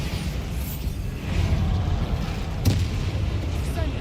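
Bombarda blasting spell in Hogwarts Legacy, a booming magical explosion with a sharp burst partway through over a continuous low rumble of combat against a troll.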